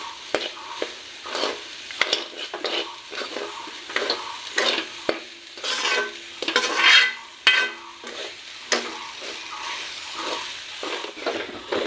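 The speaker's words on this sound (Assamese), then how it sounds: "এতিয়া এইখিনি বঢ়িয়াকৈ মিক্স কৰি থাকিম," A sweetened rice-flour jolpan mixture is stirred and fried in a pan, Assamese style. Close, rhythmic scraping strokes repeat over a continuous frying sizzle.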